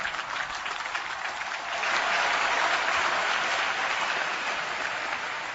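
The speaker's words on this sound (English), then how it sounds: "Let's give our graduates a tremendous round of applause." A graduation ceremony crowd gives graduates a sustained round of applause, a steady wash of many hands clapping that swells slightly midway and continues throughout.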